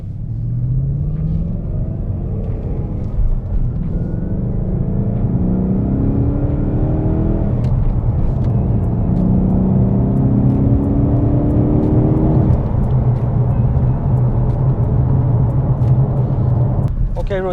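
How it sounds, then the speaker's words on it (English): A 2020 Ford Mustang pulls away with a deep, rumbling engine that climbs through several rising revs over a long stretch, loud and close, with people talking over it. "I'm just letting this car go."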